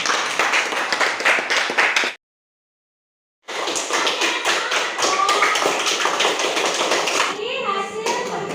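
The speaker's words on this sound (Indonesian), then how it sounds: "Beri aplaus untuk kelompok 2." A classroom of students claps for a student group, dense rapid applause that cuts out abruptly for about a second, then resumes just as full and tapers with faint voices near the end.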